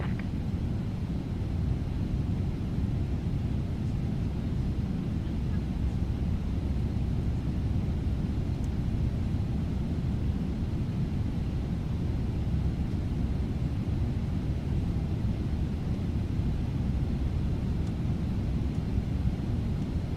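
Cabin drone of a PMDG Boeing 777-300 in a flight simulator during a Boston to Austin flight, a deep, constant low roar of engines and airflow, steady and unbroken, with no voices.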